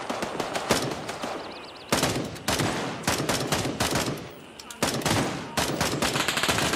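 Gunfire in the tactical shooter Gray Zone Warfare, with repeated loud bursts of automatic rifle fire separated by short pauses, close and sharp, with no talk.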